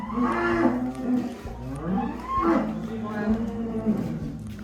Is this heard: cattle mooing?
yes